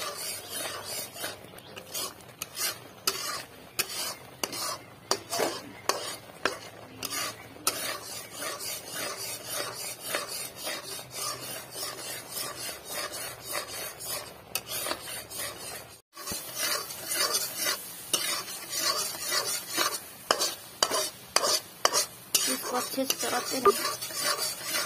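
A spoon scrapes and stirs a thickening powdered-milk burfi mixture in a pan, with continuous rasping strokes and frequent sharp clinks against the metal throughout.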